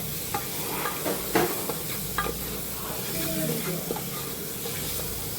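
Vegetables sautéing in a hot pan with a steady sizzle, broken by repeated scraping and stirring clatters of a spatula, close and fairly loud throughout.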